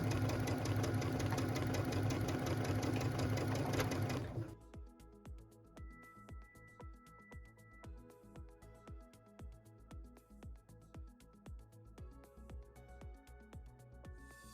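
A sewing machine stitches a half-inch seam on a pieced, quilted stocking with its lining, running steadily and close with a rapid mechanical knock; a loud burst of other noise covers the first four seconds before the stitching stands alone.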